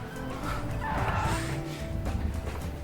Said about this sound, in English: It's quite noisy, this car